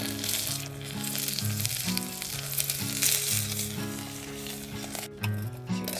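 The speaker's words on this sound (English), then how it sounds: "Okay, browning out that meat." Meat browning in a pot at a camp cookout, a loud steady sizzle and crackle of frying running continuously over a low background hum.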